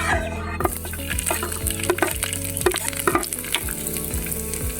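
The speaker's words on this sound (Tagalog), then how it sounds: "igisa na natin ang bawang" Garlic sautéing in hot oil in a pan, a steady close sizzle with crackling pops and a few stirring clatters, alone without talk.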